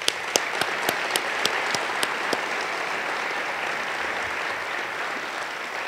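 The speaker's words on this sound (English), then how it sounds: "Can we get a round of applause, though, for our Meadowlark Elementary hosts tonight?" An audience at a city state-of-the-city address held at an elementary school applauds, opening with a few sharp individual claps before settling into a steady wash of clapping from a crowd that holds and fades slightly.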